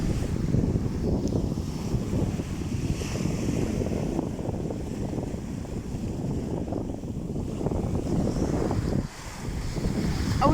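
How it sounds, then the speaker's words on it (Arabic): Sea waves wash onto a beach at Azla near Tetouan, a steady, loud surf roar with heavy wind buffeting the microphone throughout, and a brief dip near the end. "صوت البحر صراحه مزيون بزاف."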